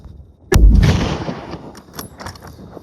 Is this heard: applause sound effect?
no